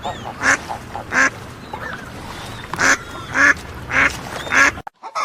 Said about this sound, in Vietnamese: con vịt,